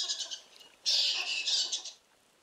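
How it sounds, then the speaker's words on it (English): High, squeaky bat chittering chirps play from a small Echo Dot smart speaker, a short burst and then a longer stretch of rapid squeaks that stops abruptly. "A bat goes."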